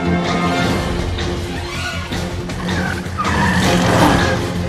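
A cartoon cat-themed superhero car skids and races off with a loud, sustained tire squeal and engine roar, continuous and close throughout, with no talking.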